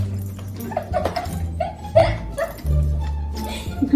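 A service dog gives short yips, whimpers and barks in quick irregular bursts, close by, amid brief human voices and commotion.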